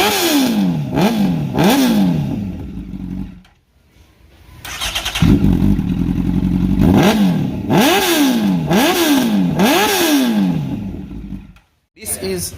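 A stunt motorcycle engine revs close by in repeated rising and falling bursts, with a short pause of idle near the middle and another just before the end.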